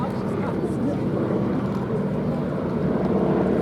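A Beech Model 17 Staggerwing biplane flies at the Duxford air show, its steady engine drone filling the clip at close range, with a voice talking over it throughout.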